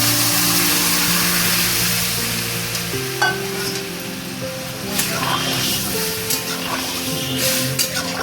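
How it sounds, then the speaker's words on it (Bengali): Chickpeas tumble into a hot, well-cooked masala in a kadai, setting off a steady sizzle with stirring and clattering over a persistent low hum, while a voice speaks faintly in the background. "এবার আমি এর মধ্যে চানাগুলোকে অ্যাড করে দেবো।"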